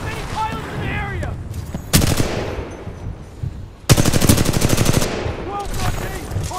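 Automatic weapon fire in the Titanfall 2 Homestead map, with a sharp loud burst near the start and then a longer rapid rattling volley later, close and dense, with radio-style voices talking before and after the shooting.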